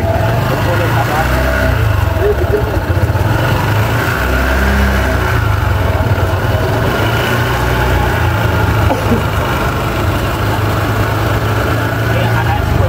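A motorcycle engine runs steadily nearby at a loud, even idle with a low throbbing rumble while someone works at its muffler. Voices talk over the engine throughout.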